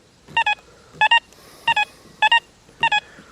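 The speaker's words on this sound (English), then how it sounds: "So we hear high tone." High beeping tones from a Deus 2 metal detector on HF2 single frequency, five short double-beep bursts in an even rhythm, clear and close with no speech.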